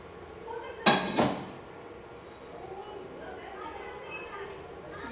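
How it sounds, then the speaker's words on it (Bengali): A knife chops pumpkin in a home kitchen, with two sharp, loud clacks against a board early on, then a quieter stretch of faint kitchen clatter while people talk. "কুমড়ো কাটছি"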